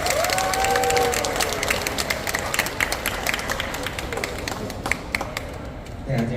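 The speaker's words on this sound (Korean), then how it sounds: "여러분 큰 박수로 맞아주시기 바랍니다." Audience applause and some cheering greet a guest speaker walking onto the stage at a Korean lecture event, a dense steady patter of clapping with voices mixed in, fading slightly toward the end.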